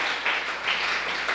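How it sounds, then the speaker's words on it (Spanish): A church congregation claps and applauds together in a steady, diffuse wash of sound, briefly and without speech. "dele un fuerte aplauso al Señor en esta mañana"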